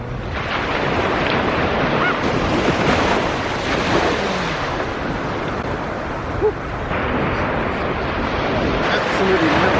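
Sea waves wash and break along the shore under strong gusting wind that buffets the microphone, a loud continuous roar with a brief thump midway.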